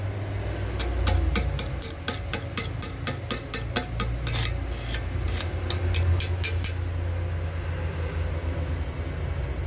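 Kazumi 200A inverter welding machine running at 100 amps, its arc giving a steady close crackling hiss with a rapid train of sharp ticks through the first seven seconds, over a constant low hum.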